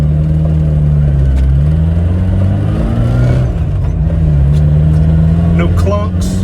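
Suzuki Samurai on a test drive after its transfer case was refitted, with a loud steady engine drone that rises and falls in pitch as it shifts and accelerates, and someone speaking over it.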